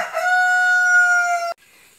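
A rooster near a kitchen window lets out a single long, loud crow that holds a strong, steady pitch for about a second and a half, then cuts off abruptly.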